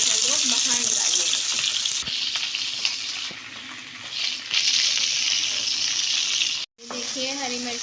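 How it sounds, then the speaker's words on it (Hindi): Green chilies frying in hot oil give a loud, continuous close sizzle with a brief break partway and some faint clinks of stirring. "हम इसको पहले ऑयल में तेल में फ्राई करेंगे हरी मिर्चों को"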